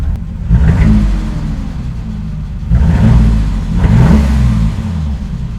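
A Toyota Supra engine fires up from a relocated push-button start and then revs twice, each throttle blip rising to a throaty roar before settling back to a rumbling idle, close and loud.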